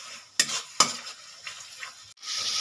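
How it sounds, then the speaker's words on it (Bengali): Spice paste of turmeric, chilli, cumin and coriander frying in oil for a rohu fish kalia, a short close sizzle with a few sharp scrapes and knocks of a spoon against the pan. "এবার একটু ভালো করে কষিয়ে নেব।"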